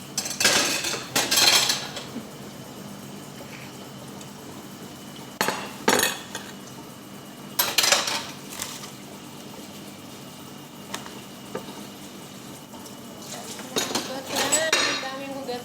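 Dishes, pots and cutlery being washed by hand, with bursts of clinking and clattering at intervals over a steady background hum, fairly close and alone.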